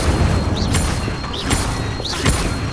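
Three repeated spell casts of the Incendio fire charm in Hogwarts Legacy, each a brief whooshing flare with a rising hiss, spaced roughly a second apart over a steady low rumble of game ambience.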